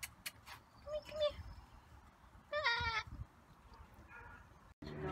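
A goat bleats at an animal farm, a few clear nearby calls standing out against quiet outdoor background.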